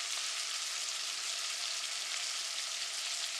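Rabbit meat searing in a hot pan gives a steady, loud, continuous sizzle and crackle of fat, unbroken and alone without voices.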